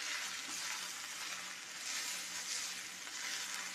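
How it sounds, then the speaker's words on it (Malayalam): Moringa leaves fry in a pan with a steady, dense sizzle and a soft scraping stir running throughout. "ഇനി ഇതിനെ വേകുന്നത് വരെ ഇളക്കി കൊടുക്കണം."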